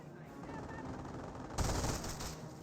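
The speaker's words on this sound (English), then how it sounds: "Rifleman Squad once again getting suppressed by the MG42" An MG42 machine gun in a Company of Heroes battle suppresses a Rifleman Squad: a sustained rattling burst erupts over a constant low battlefield rumble, fairly faint at first, then louder and closer for about a second.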